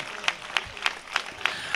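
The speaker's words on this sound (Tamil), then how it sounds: "ஜோராக ஒரு கைத்தட்டு கொடுங்க" Audience applause at a Christian convention, a steady spread of clapping with regular sharper accents, moderately loud and without talk.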